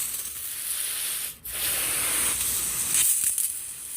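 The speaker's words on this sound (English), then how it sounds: "my hose has some hot water in it, so I'm going to spray some of that out first." Hot water hissing out of a garden hose in a steady, bright spray, briefly cut off once then resuming, fairly close and continuous with no talking.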